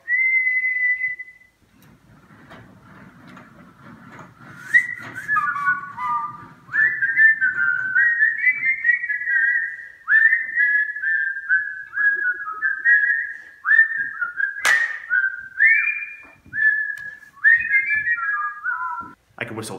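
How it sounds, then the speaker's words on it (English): A person whistles a wandering melody of clear, sliding tones, starting with a long held note and continuing in phrases with short breaths between. "I can whistle out."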